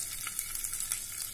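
Ginger and spices (cardamom, chili) sizzle in hot oil in a frying pan for fasting-style kadhi, a steady close crackling hiss with soft stirring, no voices.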